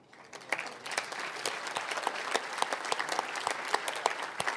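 Audience applause at a San Marcos State of the City address, honoring mid-sized business nominees: steady, dense clapping from a room full of people, sustained for several seconds with sharp individual claps standing out.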